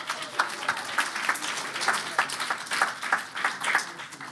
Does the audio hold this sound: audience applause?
yes